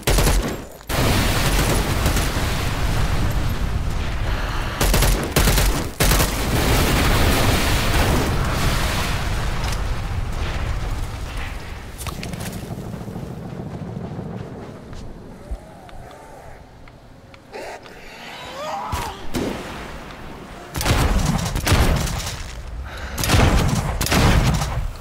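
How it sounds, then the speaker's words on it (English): Mortar strikes and gunfire in the video game Dead Island 2, a long barrage of heavy booming explosions and crackling fire, loud and close, easing briefly midway before more blasts erupt, with voices faintly in the mix. "Danger close mortars, ready when you are."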